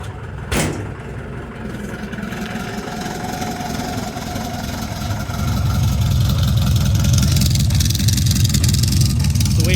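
A car engine idling loud and drony, a steady low rumble that grows heavier and louder partway through, with a short sharp knock near the start.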